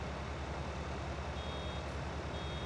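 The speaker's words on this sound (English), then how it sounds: "As you can see, hear the little beep." Steady, close electronic beeping from a baler in the Farming Simulator 19 video game, repeating in an even rhythm over a constant low machine drone.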